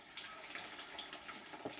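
Water trickling from the bottom tap of a mash tun while sparging an all-grain home brew kit, a steady low broadband splash running throughout with small bubbling flickers, close and moderately quiet.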